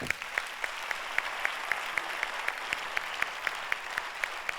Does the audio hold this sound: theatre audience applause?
yes